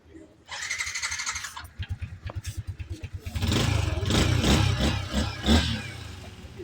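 A Yamaha Sniper 155 motorcycle engine starts with a quick sequence of sputtering pulses, then settles into a loud, steady idle with some revving, close by, while people talk nearby.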